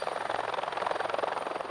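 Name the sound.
military helicopters flying in Canada's Arctic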